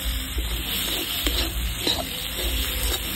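Ground spices frying in a pan (turmeric, coriander powder, meat masala, red chilli powder) for a dhaba-style palak paneer, a soft steady sizzle with faint stirring scrapes, moderately close, no voices.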